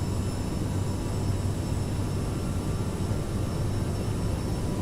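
Simulated twin jet engines of an Aerosoft CRJ700 in Microsoft Flight Simulator hold at takeoff power, a steady, broad roar with a thin whine on top, continuous and even throughout with no talk.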